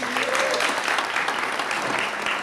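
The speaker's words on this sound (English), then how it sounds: "I think you all deserve a round of applause." Audience at a 1998 university awards night applauds graduating students, a dense, steady wash of many hands clapping that holds loud and even throughout, with a faint voice briefly audible early on.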